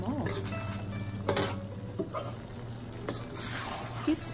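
Soft scraping and clinking of a utensil stirring chicken sambal in a small frying pan, with a low steady sizzle of frying underneath.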